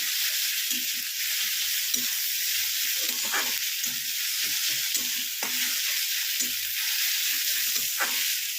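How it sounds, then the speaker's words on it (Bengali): Onions fry in oil in a pan for egg kosha, a steady close sizzle with repeated scraping and clinking strokes of stirring throughout. "পেঁয়াজটা ভালো করে ভেজে নিয়ে ফেরত আসছি।"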